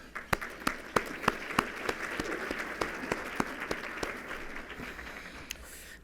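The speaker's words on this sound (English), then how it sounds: "please let's celebrate them also with a round of applause" A roundtable event audience gives a round of applause, a dense, steady patter of many hands with several louder individual claps standing out near the microphone.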